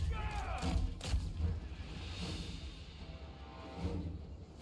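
In a Total War fantasy battle, Wood Elves units fire on trolls, sending out several dull booming volleys and thuds that come through softly beneath the ongoing clamor of combat.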